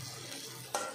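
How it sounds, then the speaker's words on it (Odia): Onions fry in a small amount of oil in a pan, a steady close sizzle with a brief sharper burst near the end as they are stirred. "ଦେଖନ୍ତୁ ପିଆଜ ଧରା ହେଉଛି"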